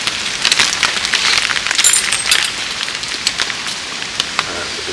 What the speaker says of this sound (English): and it started to rain again.